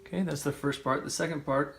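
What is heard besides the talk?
No distinct noise like a dog, phone or traffic.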